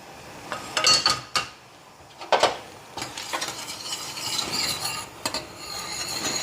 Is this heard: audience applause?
no